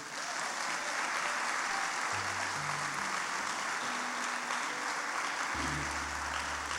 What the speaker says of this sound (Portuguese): Então vamos dar uma salva de palmas para Jesus.